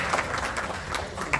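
Brief burst of audience clapping for members at an Australian Arab business gathering, a short patter of scattered hand claps at a fairly low level.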